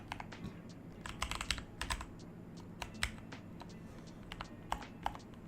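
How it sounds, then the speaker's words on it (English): Rapid, irregular keystrokes on a computer keyboard, coming in quiet clustered bursts over a low steady room hum, with no voices. "I'm having all sorts of trouble typing and everything tonight."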